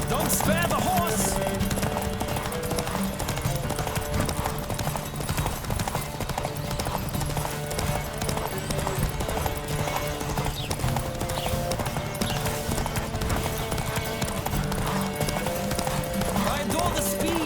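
Racing horse in The Witcher 3 galloping hard, with a rapid unbroken drum of hoofbeats held at a constant level beneath layered game music and ambience, and riders shouting at intervals.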